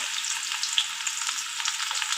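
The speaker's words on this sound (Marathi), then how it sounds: "कांदा चांगला भाजून घ्यायचा." Chopped onion sizzles in two spoons of hot oil in a heated kadhai, a bright, steady crackling fry heard up close with faint stirring.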